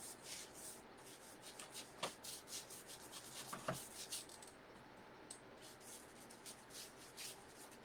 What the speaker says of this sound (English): So I'm going to be wiping off the top of the paint